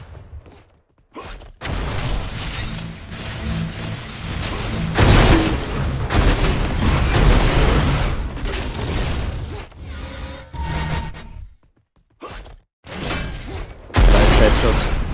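Rapid bursts of gunfire and booming weapon blasts from an Unreal Tournament duel in a competitive league match, dense and loud with brief silent gaps between volleys, while commentators talk over the action.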